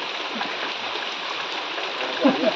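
Raindrops falling outdoors in open countryside, heard as a steady, even hiss of rain with no pauses and only a slight swell near the end.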